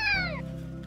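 A kitten gives a single clear, rising-then-falling meow, close and alone, with a low steady hum beneath it.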